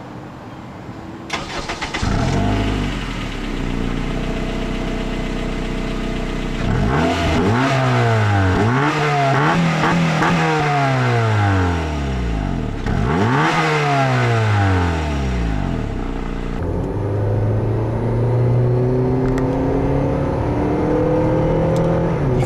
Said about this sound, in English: Still really hear that VTEC kick in on this car too.